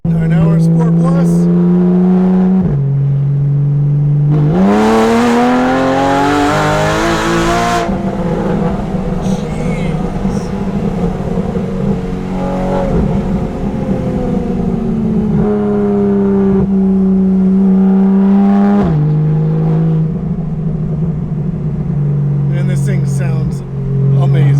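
A straight-piped Porsche 911 with a 3.8L engine and a new tune in Sport Plus mode revs hard and loud, climbing and falling in pitch through long sustained pulls, with people talking over it.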